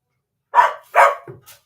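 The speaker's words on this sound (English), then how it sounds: "that's the cat's fighting with the dog" A dog gives two sharp barks and a softer yelp while scuffling with a cat indoors, close and loud against an otherwise quiet room.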